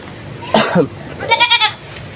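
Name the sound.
goat bleating, a live animal brought as an offering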